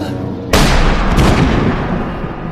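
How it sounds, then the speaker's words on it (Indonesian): Gunfire from the film Once Upon a Time in Mexico: a sudden loud, close blast with a sharp attack, a second shot soon after, and a rumbling tail that fades slowly. "Si Mariachi lalu menembak kedua kaki Marquez, lalu menembak kepalanya dan membuatnya mati saat itu juga"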